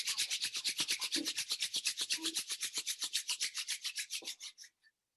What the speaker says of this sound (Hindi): हाथों को रब कर लेंगे।